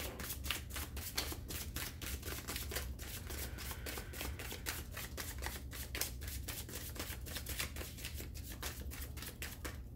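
A deck of tarot cards is shuffled over and over, a close run of rapid crisp riffling flicks in quick bursts across the whole stretch, with no talking.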